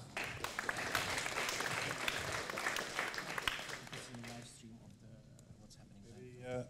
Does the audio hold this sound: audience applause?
yes